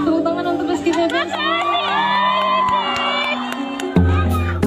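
Concert crowd at a pop music collaboration show in Pontianak cheering and shouting with high excited voices, loud and continuous, with an amplified voice and tones running underneath.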